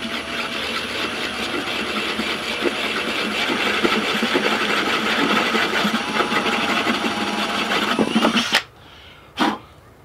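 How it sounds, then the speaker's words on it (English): A steady, whining drill bores out a hole in a cowl at close range for several seconds, then cuts off abruptly, followed by a brief clunk. "we're gonna start out by drilling this hole out as big as we can go with this here"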